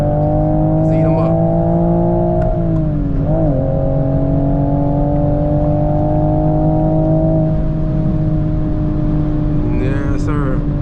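Toyota GR Supra MK5 engine revving and accelerating hard, a loud continuous engine note climbing in pitch, dipping briefly, then rising again, with someone talking over it.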